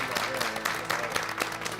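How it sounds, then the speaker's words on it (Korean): Brief applause from a small studio audience during a live health talk show, a few scattered, distinct claps that repeat over a couple of seconds. "박수 한번 드려요."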